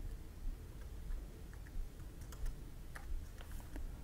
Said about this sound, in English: Now rather than copy and pasting the date, I'm going to type it in.